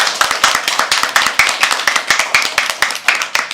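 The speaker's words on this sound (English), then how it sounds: "Another round of applause." A small audience at a poetry open mic gives a round of applause, with brisk, close, evenly paced claps forming a sharp rhythmic patter throughout.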